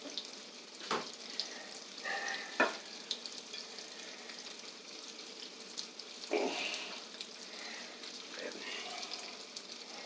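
Vegetables for a spring breakfast being stirred in a pan, a utensil scraping and clattering in short bursts over a steady sizzle, with faint kitchen background noise.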